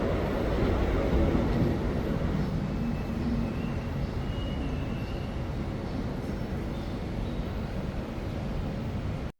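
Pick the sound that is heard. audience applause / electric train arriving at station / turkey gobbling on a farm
electric train arriving at station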